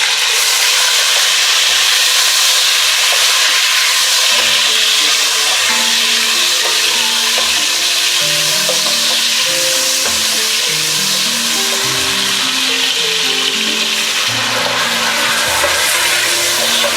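Browned onions and finely chopped tomatoes fry for a curry pakora dish, a loud, steady hiss of sizzling oil that runs unbroken throughout, with faint tonal background music underneath.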